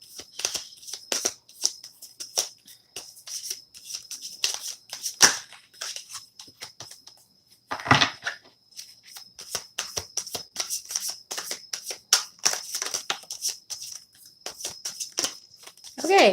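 Akashic oracle cards being shuffled by hand, with a long run of quick papery riffles and flicks, close and fairly soft, broken by a few louder snaps and a brief pause.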